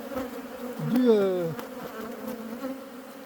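Honeybees hum in a close, droning buzz at a hive, with one bee's pitch swooping up briefly as it passes near, then settling back into the steady hum.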